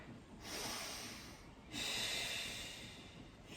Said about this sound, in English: Deep breath here.